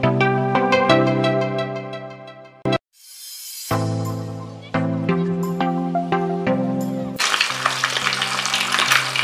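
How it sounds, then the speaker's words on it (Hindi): Egg-and-bread-coated chicken rolls fry in hot oil, a hissing crackle that swells loud near the end, with melodic music playing throughout and a brief break in the middle. "तेल हमारा गर्म हो चुका है। अब हम फ्राई करेंगे।"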